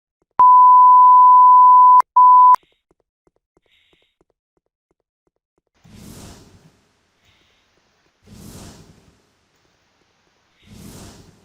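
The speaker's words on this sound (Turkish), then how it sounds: "Ya telefon da ötecek zamanı buldu ya." A steady electronic ring tone sounds twice in quick succession, then stops; afterward a few soft, muffled thumps recur at intervals in the quiet.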